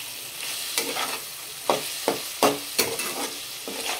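Potatoes fry with turmeric, chili, coriander and cumin powders in a pan, sizzling steadily while a spoon scrapes and stirs in several distinct, close strokes.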